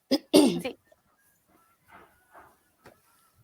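Short, sharp cough-and-sneeze bursts open the sequence, followed by a few fainter throat sounds and small coughs in an otherwise quiet room during a talk show.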